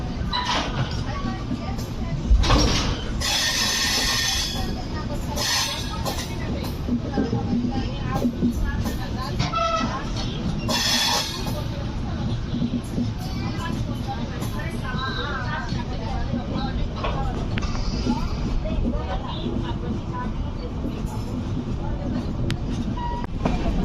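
The 18519 Visakhapatnam–Kazipet Express rolls slowly on the outer approach to Kazipet, heard from on board as a continuous low rumble with occasional clanks and hisses. Passengers chatter throughout.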